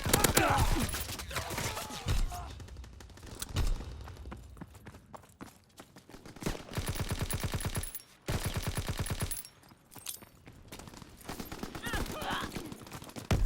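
Call of Duty WW2 street battle: rapid bursts of automatic gunfire and scattered shots, loud and close, with a dense stretch of sustained firing in the middle and background battle noise, plus occasional voices.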